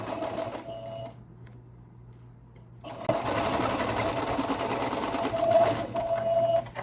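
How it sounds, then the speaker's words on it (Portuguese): A sewing machine runs side seams on a skirt in short bursts: a brief run, a pause, then a longer steady whirring stitch that stops and starts again near the end, loud and close. "É só passar a costurinha aqui nas laterais."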